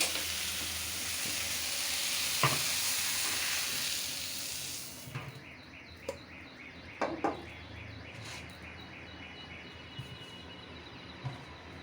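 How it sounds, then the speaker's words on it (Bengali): Bottle gourd greens frying in a pan, a loud steady sizzle that quiets after a few seconds, broken by scattered scraping clatters from stirring. "দেখেন এই যে লাউ শাক ভাজি করলাম"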